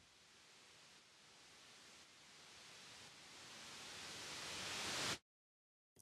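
Pink noise from Logic's test oscillator routed through a reverb, a dense steady hiss that gradually swells louder for about five seconds before cutting off abruptly into silence.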